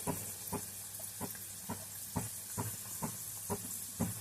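Sambar vadi fry in oil over a low flame until golden on both sides: a soft, continuous sizzle and hiss with regular faint pops and ticks, close by.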